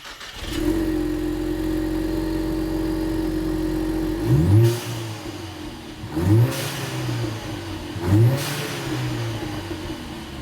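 Stock exhaust on a 2015-2023 Ford Mustang EcoBoost idling steadily, then blipped through three sharp revs a couple of seconds apart, each rising and falling quickly before settling back to a low idle.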